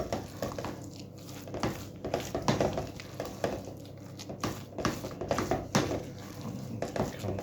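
Sticky flapjack mixture of oats, syrup and beaten egg being stirred in a bowl, giving soft, wet squishing and spoon scrapes against the sides in a steady, close-up rhythm with no talking.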